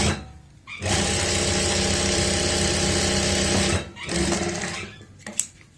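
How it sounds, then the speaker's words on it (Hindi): A sewing machine runs in one long continuous burst while stitching a pocket with a one-foot-width seam, then slows, briefly restarts and stops with a small click. "यहाँ पे लगा लेंगे 1 पैर चौड़ाई वाली सिलाई"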